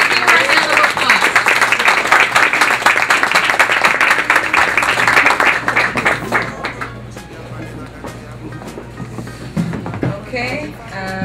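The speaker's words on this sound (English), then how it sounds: "Please give her a round of applause." An audience applauds for the hostess, Miss Africa USA titleholder Fifi Sumer, at an evening event: dense, loud clapping for about six seconds that thins out, with a hum underneath and scattered voices and a few claps remaining.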